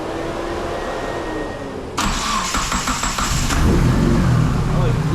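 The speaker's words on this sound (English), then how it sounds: "Starting the car." A 280 HP car with a freshly repaired broken manifold cranks with a rapid chattering starter for about a second and a half, then catches and settles into a loud, rough idle close by.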